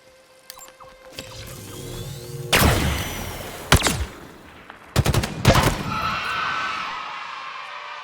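Repeated weapon fire in Halo Infinite takes out grunts, with sharp close shots and a rapid volley cutting through whining energy effects and shrill alien squeals.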